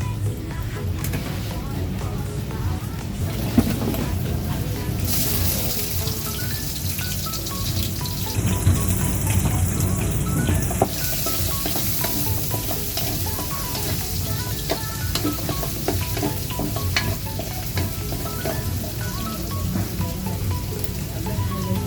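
Cooking oil heating in a pan for a pork menudo, giving a steady crackling sizzle that goes on throughout, with a thin high tone partway through.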